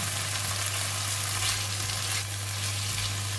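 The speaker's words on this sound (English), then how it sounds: "we just need to stir fry with chili for about 1 minute" Vegetables stir-frying with chili in a hot pan while egg fried rice with kailan is made: a loud, continuous sizzle with stirring scrapes, close up and unbroken for the whole few seconds, with no voices.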